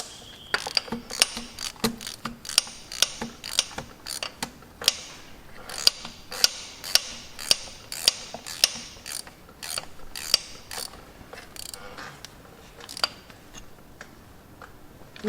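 A hand ratchet clicks rapidly in repeated bursts while tightening a bolt on a Massey Ferguson 135 tractor, sharp close metallic ticks slowing and thinning toward the end, no talking.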